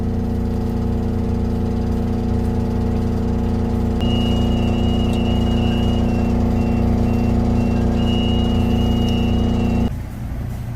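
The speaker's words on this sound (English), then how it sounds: "we got the alarm to go off" A boat's Sea Star steering sensor alarm beeps steadily in a regular on-off pattern over a constant low engine-like hum, then stops abruptly near the end.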